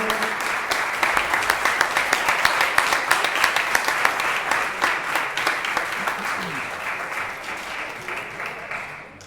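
Gala dinner guests applaud a vice president called up for recognition, sustained dense clapping with rhythmic accents that gradually thins and fades.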